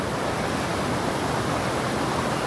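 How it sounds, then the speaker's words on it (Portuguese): Stream water pours forcefully onto a bather's back at a creek in Barra do Garças, Mato Grosso: a loud, dense, unbroken rushing roar that fills the whole moment with no talk. "A água bate com muita força nas minhas costas."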